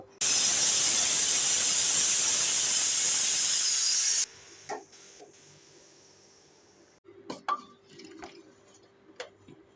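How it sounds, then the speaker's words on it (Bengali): Pressure cooker steam release while cooking soya rice, a loud steady hiss lasting about four seconds that then cuts off, leaving faint drips and scattered small clicks and knocks. "যতক্ষণ না পর্যন্ত স্টিমটা বার হচ্ছে ততক্ষণ পর্যন্ত আমি অপেক্ষা করে নেব"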